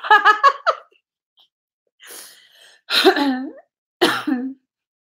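A person coughs and clears their throat in several close bursts separated by short silences, starting with a rapid run of coughs and followed by three heavier, throaty hacks.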